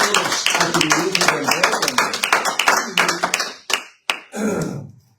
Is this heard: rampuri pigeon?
no